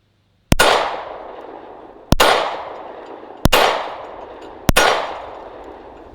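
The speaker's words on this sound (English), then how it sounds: "here's what it looks like when it hits those steel targets" Rounds from a suppressed Rock Island 1911 .45 ACP pistol strike steel targets: four sharp metallic clangs, each with a ringing decay, spaced about a second and a half apart, loud and close, with no talking.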